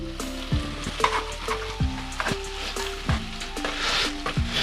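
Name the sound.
mint and coriander sautéing in a pan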